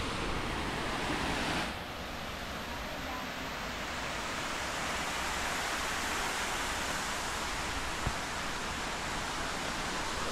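Water pours over a mini dam at Aruyan Falls in Sablayan, Occidental Mindoro, a steady, loud broadband rush that continues without a break.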